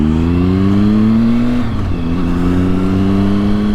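A car on new Bridgestone tires drives at steady speed with a loud, continuous engine and road drone, the engine tone dipping briefly and then settling back as it carries on.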